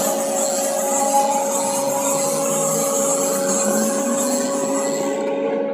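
A Haas milling machine hums steadily while the tool jogs downward along the Z axis, a continuous mechanical whine with a slowly shifting pitch, close and fairly loud, with no talk.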